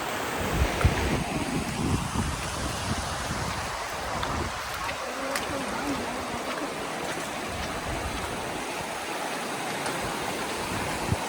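Fast-flowing stream water in a mountain pass at Umberkhind, a steady broadband rush of water that continues unbroken throughout, with wind noise on the microphone.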